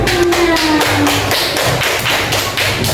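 Classroom applause for a correct answer, a sustained run of loud, close hand claps and taps from pupils, with faint voices mixed in.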